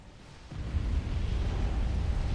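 An explosion in a real-time strategy game bursts into a deep, sustained rumble that swells suddenly and keeps roaring steadily to the end.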